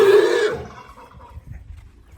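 A mare named Kajli neighs loudly while being checked on a farm, one bright whinny that fades into quiet snorts and shuffling.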